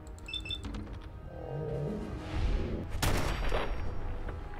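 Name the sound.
gunshot in Fallout 4 video game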